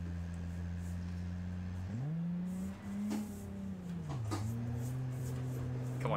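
A VT Commodore built in the video game Automation drives along a highway, its engine a steady droning hum whose pitch shifts up and down through gear changes and throttle, moderately quiet with no talk.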